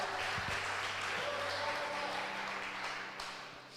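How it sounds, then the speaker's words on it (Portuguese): Applause from a church congregation fills the space as a broad, steady wash of clapping that lasts the whole stretch and eases slightly toward the end, with some speech-like tones mixed in. "Dê um aplauso bem forte a esse Deus"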